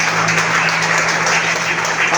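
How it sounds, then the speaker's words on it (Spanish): A church congregation claps and applauds together in a dense, continuous wash of hand claps with a steady low hum beneath. "Dale un aplauso a Él."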